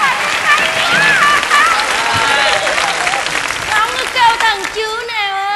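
A round of applause breaks out, dense clapping running throughout with voices calling and talking over it.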